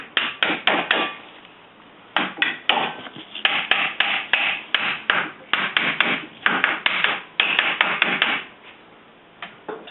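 Sharp, close hammer taps drive a front wheel bearing into place on a Dodge Dakota, striking in quick bursts of several blows separated by short pauses, with no talking.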